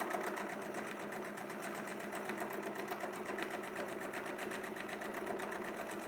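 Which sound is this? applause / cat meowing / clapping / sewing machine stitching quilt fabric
sewing machine stitching quilt fabric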